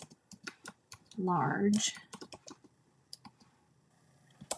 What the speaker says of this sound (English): I'm going to type in Fiesta